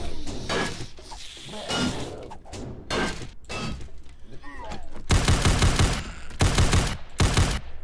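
Gunfire from weapons in the video game 7 Days to Die, with bursts of sharp shots and loud rapid volleys, the heaviest clustered near the end, over game background noise.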